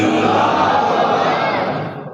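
A large gathering at a religious sermon in Punjabi responds to a slogan with a loud, unified shout from many voices that swells at once and then fades away.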